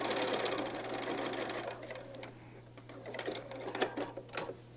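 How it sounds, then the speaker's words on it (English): Close sewing machine running in sustained bursts of dense needle chatter while stitching curved paper-pieced quilt units, with the motor whine stopping halfway through, after which lighter handling clicks and taps follow. "I like to sew from the inside to the outside."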